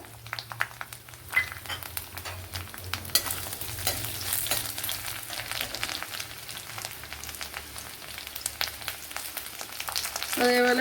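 Cut chillies and garlic cloves sizzle in a pan with a close, busy crackle, punctuated by frequent stirring scrapes and taps, with a brief word spoken over it.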